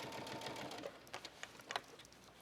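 A home sewing machine stitches a cuff on a denim shirt dress, a quiet buzzing run of needle strokes followed by a few short, uneven bursts as the fabric is guided.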